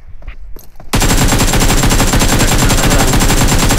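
Rapid automatic gunfire in the battle royale game PUBG, a loud, dense stream of shots that starts abruptly after a second of quieter sounds and continues unbroken to the end, with no talk.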